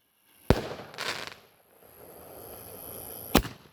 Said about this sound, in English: More damn artillery shells.